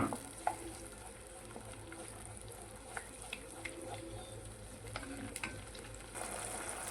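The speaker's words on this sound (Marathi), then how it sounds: "आता आपलं तेल चांगलं गरम झालं आहे ह्याच्यामध्ये मी आता टोमॅटोची प्युरी ॲड करते" Tomato puree hitting hot oil in a pan for a spiced chickpea and yogurt curry, giving a steady low sizzle with faint scraping and clicking as it is stirred, fairly quiet throughout.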